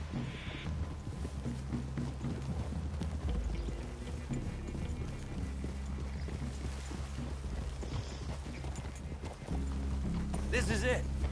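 Hooves clop at a slow walking pace, steady and close, under quiet talk and faint shuffling.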